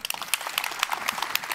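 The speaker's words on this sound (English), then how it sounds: "Clap if you agree." Scattered audience clapping at a tech conference talk on JavaScript streaming, a brief burst of hand claps from part of a room, moderately close.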